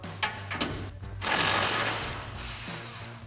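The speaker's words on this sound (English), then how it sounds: "So now we'll remove our top bolt to our 18mm socket." An 18mm socket on a ratchet works loose the top bolt of a sway bar end link on a Jeep Gladiator JT during a suspension lift install, with close, uneven clicking and metallic rattles and a denser burst in the middle.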